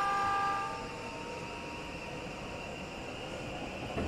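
Train departing in the Densha de Go! Yamanote Line game, a steady rolling rumble with a brief high tone at the start, continuous and moderately loud.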